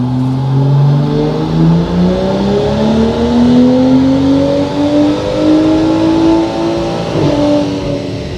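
Tuned car engine on a dyno during a power pull, run on pump fuel with added octane, revving loud and steady as its pitch climbs through a long sustained pull with no talk.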